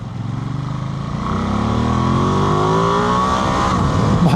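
A 2025 Ducati Multistrada V2S motorcycle engine pulls steadily while riding, a loud, smooth drone whose pitch climbs continuously as the bike accelerates, with wind rush beneath and no voices.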